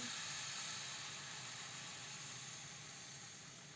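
Thin zucchini crepes (nalysnyky) sizzle in a frying pan, a steady close hiss of batter cooking with no talking.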